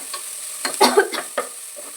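Onions fry in a pan for dal tadka, with a soft background sizzle broken by a few short stirring scrapes and clatters, close by and moderately loud.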